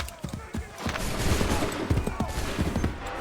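Soldiers fire a ragged musket volley in Assassin's Creed 3, a string of sharp cracks and booms spread unevenly over about three seconds, loud and close over a continuous rumble of battle.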